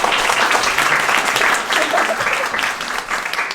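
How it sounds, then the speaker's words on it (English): People at an IQ Media Hub presentation give a speaker named Simon a loud, sustained round of applause, thick and continuous clapping that tapers slightly near the end. "big applause for Simon,"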